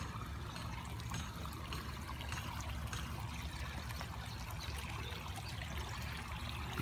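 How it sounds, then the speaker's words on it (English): Water from a small flood pump pours onto a corn patch in a steady, rushing, splashing stream, continuous and fairly close, with no talking over it. "You can see the water coming out there."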